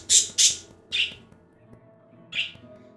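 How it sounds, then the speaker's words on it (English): An excited bird in the Blasphemous game gives four loud, sharp squawks: two quick ones together, a third shortly after, and a fourth after a pause, over a faint low musical hum. "There's that excited bird."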